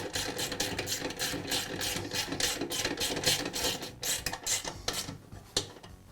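A bolt is run in on the burner of a Weber portable gas grill, giving a rapid series of close, metallic ratcheting clicks that slow and thin out toward the end.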